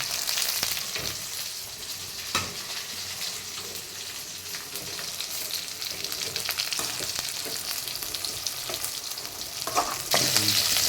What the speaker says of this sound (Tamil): இந்த அடுப்பில் இப்போது மிளகு தக்காளி கீரை வந்து பொரியலுக்கு வணக்கிட்டுருக்குறேங்க